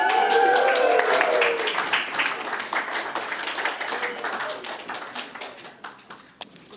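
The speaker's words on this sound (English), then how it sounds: "Another round of applause for Lisa, everybody." Wedding guests applaud a bridesmaid's toast with dense hand clapping that starts full and gradually thins and fades, with a few faint voices underneath.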